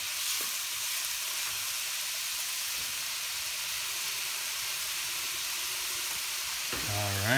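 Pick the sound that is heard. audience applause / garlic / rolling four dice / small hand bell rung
garlic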